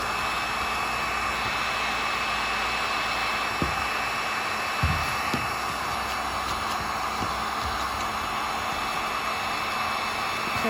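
A heat gun blows steadily to soften old silicone sealant on a camper roof, a loud constant whooshing roar throughout with a few faint scraping knocks partway through.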